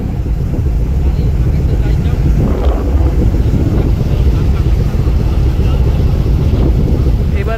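A passenger launch powers fast along a river, its engine and rushing water forming a loud, steady roar with heavy wind buffeting throughout, alone without clear talk.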